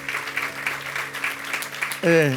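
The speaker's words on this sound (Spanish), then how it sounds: "damos un lindo aplauso honroso al Señor" Worshippers in a church service break into applause, a close, dense patter of clapping that stops abruptly as a voice begins speaking.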